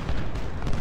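Massed musket fire from Civil War soldiers in Ultimate General: Civil War forms a dense, continuous crackle of overlapping shots at mid distance.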